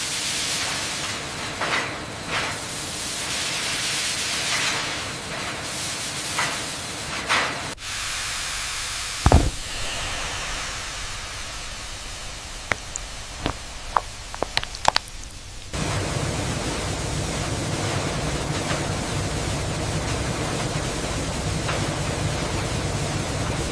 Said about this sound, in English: Entering the primary steaming chamber, 100 degrees Celsius.